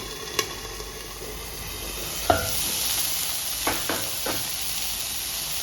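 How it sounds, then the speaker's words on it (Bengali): Broccoli curry being stirred in a pan after the lid comes off, soft steady sizzle with a few scattered scraping clinks of the spoon against the pan, quiet and close. "ঢাকা খুলে একটু নাড়াচাড়া দিয়ে নেব।"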